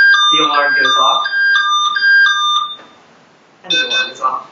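A SureLock fingerprint lock device built by a student STEM team sounds its alarm: a series of bright electronic beeps in a stepped, tune-like pattern, a short pause, then another burst of tones.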